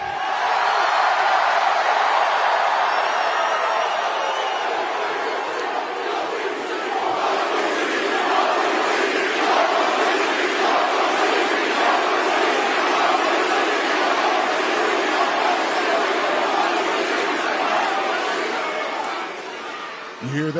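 A large wrestling arena crowd roars and chants in a sustained, loud wall of voices, with rhythmic surges and scattered shouts throughout, heard from within the audience.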